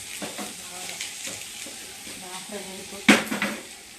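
Bitter gourd deep frying in oil, a continuous sizzle with repeated stirring and spatula scrapes against the pan, ending in a sharp metallic clatter and a few knocks.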